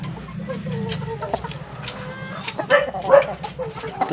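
A Boston sweater gamecock stag clucks and calls close by in an outdoor fowl setting, short rough bursts rising toward the end, with low voices and background noise underneath.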